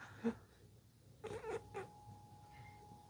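A house cat lets out a brief close meow, followed a second later by a few more short cries, heard alone over a quiet room background during a turboprop flight simulator stream.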